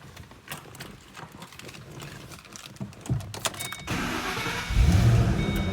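A 2007 Ford Mustang Shelby GT500 in grabber orange, with clicks and cabin rustling before the starter catches, then a loud engine start and a deep, steady idle rumble close by.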